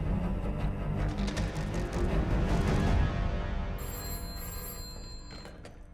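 A telephone rings with an incoming call from the telephone exchange, a loud, dense burst of ringing that fades after a few seconds as thin high tones linger.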